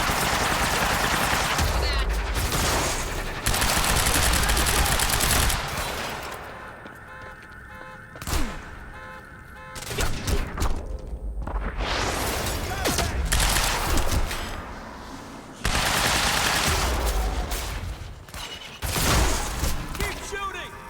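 Bursts of gunfire fill a night shootout in the video game Quantum Break, with rapid volleys and loud shots that come and go in waves while a voice exclaims over the action.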